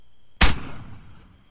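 A single loud gunshot cracks in the Arma 3 battle royale game, sharp and close, followed by a short echoing decay.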